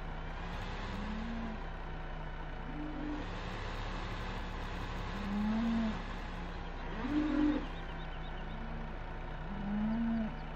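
Cattle mooing in the farming video game Farming Simulator 15, several low drawn-out moos repeating every couple of seconds over a constant low engine drone, moderately distant and without speech.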